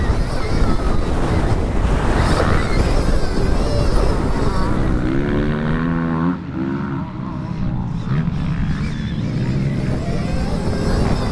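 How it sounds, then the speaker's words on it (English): A Stark Varg electric motocross bike being ridden, heard from on board as heavy rushing wind buffeting the microphone with a rising electric whine partway through, loud and continuous, with no talking. "I'm on board the Stark Varg electric motocross machine"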